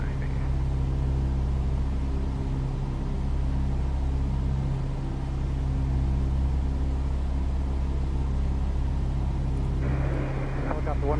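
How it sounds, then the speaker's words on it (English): Steady, loud drone of a light aircraft engine in a PC flight simulator during a VFR flight over Savannah, Georgia, running continuously throughout with a faint tonal chime near the end. "aircraft actually sounds very good, very nice"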